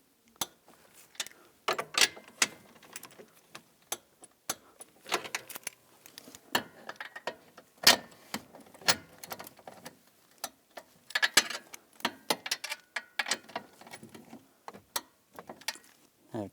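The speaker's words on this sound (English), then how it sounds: "Now we're going to torque these to 16 foot-pounds." A torque wrench tightens bolts to 16 foot-pounds while replacing the fresh air door actuator on a 2010-2017 Chevrolet Equinox, giving sharp, uneven ratcheting clicks in bursts, close and fairly quiet.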